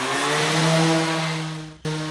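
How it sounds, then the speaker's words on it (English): A power sander runs on beveled wooden pieces for a shop first aid kit box, giving a loud, steady motor whine with a brief dip near the end before it picks up again. "Now I'm going to sand all these guys."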